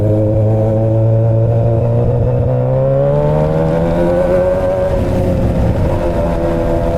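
A Yamaha R1 motorcycle engine runs loudly with a rough, choppy idle, its low tone wavering and lurching unevenly, dipping and rising in pitch rather than holding steady.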